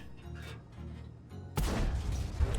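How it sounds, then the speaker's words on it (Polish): A tank cannon shot in World of Tanks hits a building with a sudden loud blast and crumbling impact that cuts in midway through a quiet engine rumble and keeps roaring to the end. "Drugi strzał trafił w budynek, a nie w to, gdzie celowałem."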